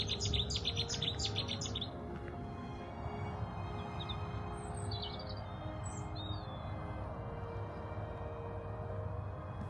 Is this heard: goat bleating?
no